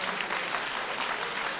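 An audience at an economic outlook talk gives a round of applause, a soft, steady patter of many hands clapping heard from a distance and fairly faint, with no speech over it.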